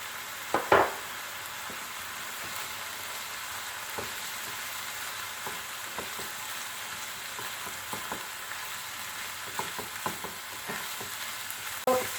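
Garlic frying in a pan over a medium-low flame gives a steady, even sizzle, with a few soft clicks and knocks of a utensil against the pan now and then.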